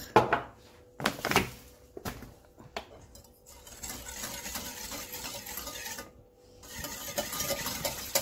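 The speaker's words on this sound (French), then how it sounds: "Et je mélange." Brioche dough ingredients are mixed in a bowl, giving a run of scraping, clattering knocks, then a steadier churning rub that pauses briefly and resumes, close and moderately loud.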